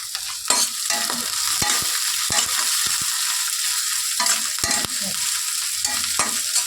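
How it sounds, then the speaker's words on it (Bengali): Green chillies with ginger and five-spice seeds frying in oil in a pan for Bengali vegetable chops, bright steady sizzling with intermittent sharp scrapes and knocks of a spatula, close up. "আর যে কাঁচা লঙ্কা, এক এক করে একটু ভেজে নেব।"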